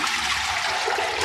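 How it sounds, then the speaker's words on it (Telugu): Water pours off soaked puffed rice in one short, continuous rushing splash, close and fairly loud. "ఇక ఈ వాటర్ తీసేసి మళ్ళీ వాటర్ పోసుకుందాం."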